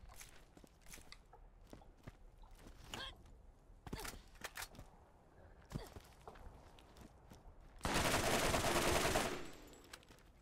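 Sniper rifle fire in the video game Borderlands: a series of sharp, loud reports at irregular intervals, followed by a sustained burst of broadband noise near the end.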